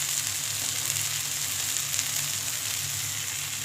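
Spice masala fries in hot oil in a pan, a dense, even sizzle with fine crackling heard up close and alone throughout.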